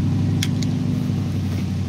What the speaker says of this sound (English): Sounds like my car.